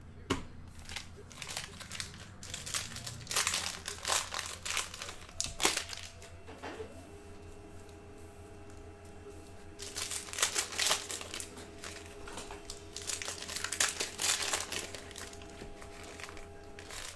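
Crinkly tearing and rustling of a 2019-20 Panini Prizm Basketball cello pack being ripped open, close up, in bursts of crackling plastic with quieter handling between them.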